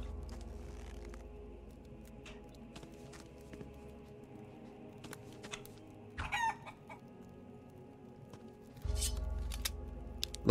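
Chickens clucking and a rooster crowing in the video game Risen, short bursts of clucks scattered over a quiet background with a louder burst near the end.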